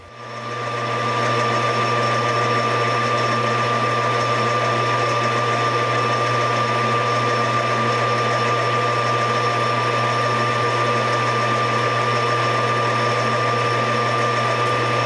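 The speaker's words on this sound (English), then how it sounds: "I'll chuck up the stock in the 3-jaw on my lathe, face it off, then start reducing the stock." Metal lathe turning steel stock held in a 3-jaw chuck while reducing it for a pin punch, a steady continuous motor hum and cutting whine running loud and unbroken throughout.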